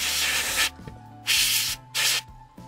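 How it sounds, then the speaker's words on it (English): Compressed air from a spray can blows dust off a plastic scale model car in three loud hissing bursts, each lasting roughly half a second, separated by quieter pauses. "So with our canned spray air, just see if I can get the dust off."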